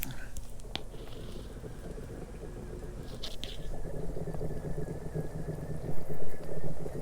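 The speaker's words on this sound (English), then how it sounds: "So I can hear the water bubbling in there." Water bubbling and fizzing inside a self-heating Sichuan instant barbecue meal pack: a steady, soft, rain-like hiss that swells into a few louder bursts near the end, with no talking.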